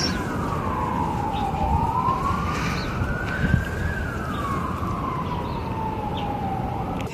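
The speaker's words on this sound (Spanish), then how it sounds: "Y se escuchan las ambulancias." An ambulance siren wails in the distance on a cold day, its tone sweeping slowly up and down over steady low traffic hum, with no talking nearby.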